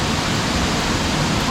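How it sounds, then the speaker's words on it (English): Water spilling down a waterfall in Kenya, heard as a steady, close broadband rush of splashing water that never lets up for the whole moment. "You can see water dropping."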